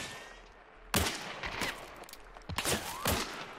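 Gunfire in the multiplayer shooter game Hunt: Showdown, several sharp loud shots with echoing tails in two clusters after a quiet opening, with brief ringing between them and no talk.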